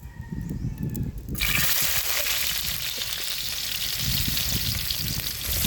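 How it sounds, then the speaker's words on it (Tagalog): Shellfish cooked outdoors on Camotes Island sizzle and fry loudly, a steady dense hiss that kicks in abruptly and continues with light bubbling and stirring. "magsugod na mi og luto sa among kinhason na ami diri sa gawas"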